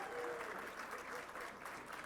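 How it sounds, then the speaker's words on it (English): Applause from an awards-dinner audience at a business hall of fame event, a faint, steady patter of clapping hands from a seated crowd with no distinct voices. "Now, I did say hold the applause, but just do your thing, folks."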